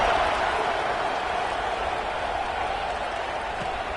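Stadium crowd roar in the NCAA Football 26 video game at a Penn State football game, a dense, steady wash of cheering and applause holding evenly throughout without a break.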